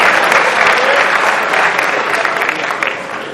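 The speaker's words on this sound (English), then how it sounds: "Let's give them a round of applause." A theater audience applauds the cast and crew of a Three Musketeers production, a dense, loud wash of clapping that holds steady and tapers slightly toward the end.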